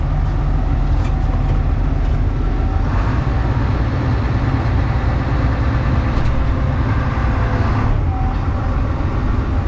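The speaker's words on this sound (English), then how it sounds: "3-point hitch on the tractor" A tractor engine drones steadily and unbroken throughout, a heavy low rumble close by with no pauses.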